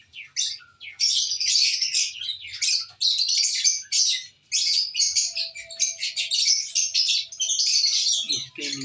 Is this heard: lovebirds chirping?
yes